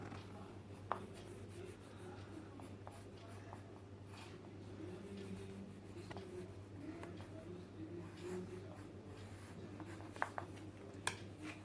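Soft, steady scratching of coloring strokes on paper for a quick nature sketch of a money plant, faint and close, with a low constant hum underneath.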